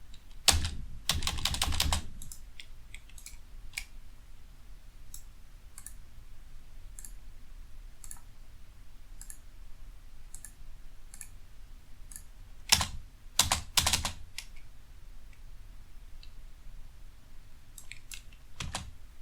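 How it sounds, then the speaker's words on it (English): A computer keyboard is tapped while playing Kerbal Space Program. Short flurries of clicking come at the start and around the middle, with sparse single taps between them and a quiet background. "Why is my spacebar not working?"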